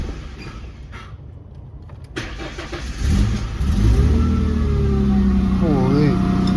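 A New Edge Ford Mustang V6 cranks and fires up for the first time on a freshly installed exhaust, settling into a loud, deep steady rumble with a brief rev.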